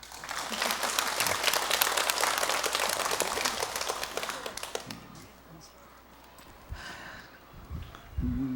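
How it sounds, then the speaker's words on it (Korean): Dense clapping from a congregation at a Sunday Dharma service in a Buddhist temple, strong for about five seconds and then fading out, followed by quieter room noise and a voice near the end. "오늘 박수도 한번 더"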